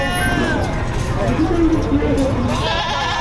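Goats bleat at a livestock auction in Padre Garcia, Batangas, with wavering calls rising over a steady crowd hubbub and nearby talk.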